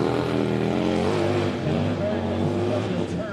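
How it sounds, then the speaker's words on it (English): Deep, steady rumble of a large Harley-Davidson motorcycle engine idling at a hill climb event, continuous throughout with strong low harmonics and a loud, close presence, with crowd or commentary voices mixed underneath. "this motor is very deep in sound and very unique"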